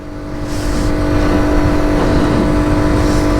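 A Honda CT90 Trail 90 motorcycle rides in the rain, its small engine giving a steady, loud, close drone that rises slightly early on and holds even.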